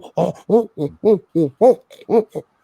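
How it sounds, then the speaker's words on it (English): A barred owl's mating call, a series of loud, close, rhythmic hooting notes with a wavering, almost primate-like quality, rising and falling across a few seconds. "barred owls, when they are mating or trying to mate, they will make this very primate, like they"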